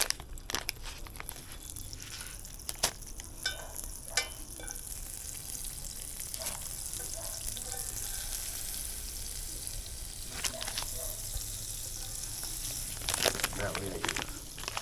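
Butter frying in a hot pot while cooking Jamaican steamed fish, a faint continuous sizzle with scattered crackles and clicks of utensils, steady throughout at low level.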